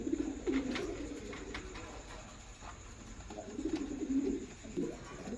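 Lahore pigeons, a newly paired male and female, coo repeatedly and close by in soft, throaty bursts over faint background noise.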